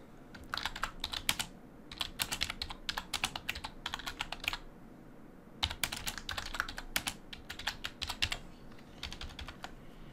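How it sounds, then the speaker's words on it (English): Keys clatter on a computer keyboard in quick bursts of typing separated by short pauses, quiet and close, with no voices. "And I can also type in a message when it's incorrect."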